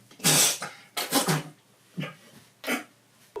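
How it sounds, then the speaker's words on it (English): A person coughs up blood in several harsh bursts, two close together, then a pause and two more separate coughs, near and fairly loud. "You're coughing up blood."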